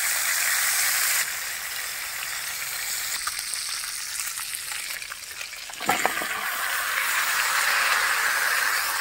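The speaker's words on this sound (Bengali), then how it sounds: "এবার মাছটাকে মাথা সহকারে ভেজে নিতেছি" A fish with its head on frying in a pan with onions, a steady hissing sizzle up close, with a sharper burst of spitting partway through before the sizzle settles back.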